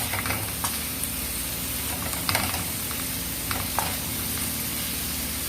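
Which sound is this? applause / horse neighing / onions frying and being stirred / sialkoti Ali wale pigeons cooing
onions frying and being stirred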